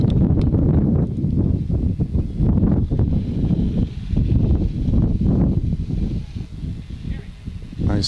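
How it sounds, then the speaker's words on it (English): Wind gusts across the microphone at an outdoor girls' fast-pitch softball game, a loud, buffeting rumble that swells and dips for several seconds while people talk in the background. "Nice gust of wind just blew my scorebook away"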